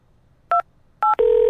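Telephone keypad dialing: two short, separate electronic tones, then a steady continuous tone that starts right after them, clear and close with no talking.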